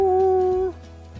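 Bluetick coonhound howling: a single loud, sustained tonal howl up close that cuts off after about half a second, followed by quiet background.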